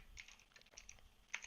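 Quick, faint taps on a computer keyboard during a Python programming lesson, a short burst of keystrokes close by with no talk.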